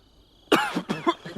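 A young man coughs hard several times in quick succession after his first drag on a cigarette, harsh and close, with no talk.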